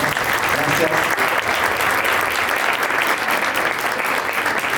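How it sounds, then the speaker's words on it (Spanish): An audience at a talk breaks into sustained applause, a dense, loud, even wash of many hands clapping with no break. "un aplauso para ellos y ellas"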